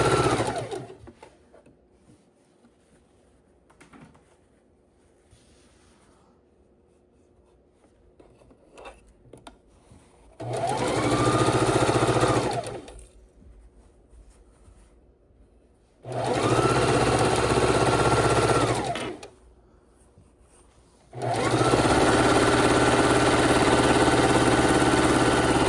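Sewing machine stitching quarter-inch seams on quilt blocks for a disappearing nine-patch: three loud, steady bursts of fast machine whirring, each several seconds long, separated by quiet pauses with faint handling noise.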